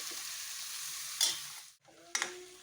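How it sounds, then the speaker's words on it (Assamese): Local chicken meat frying in hot oil, a steady close sizzle broken by scraping stirs of a spoon through the pan, with a short lull before the sizzle returns louder. "মাংসৰ পৰা তেলটো নিগৰালৈকে অলপ ভাজি আছোঁ"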